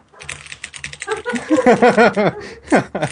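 A man imitates someone typing on a computer keyboard with his voice, making rapid clicking, clattering mouth sounds in a quick rhythm that lasts a few seconds.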